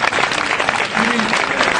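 A worship congregation applauds in acclaim of Jesus, a dense, loud burst of clapping from many hands that carries on without a break, with voices mixed in.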